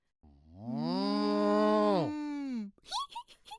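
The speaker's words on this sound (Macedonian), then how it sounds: "Ова е крава." A cow gives one long, deep, drawn-out moo that swells and then trails off, close and clear, followed by a brief burst of a voice speaking.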